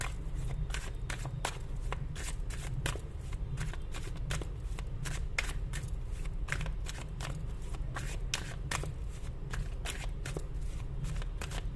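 Tarot cards being shuffled by hand up close, a steady, continuous rapid riffle of flicking cards that runs throughout without pause.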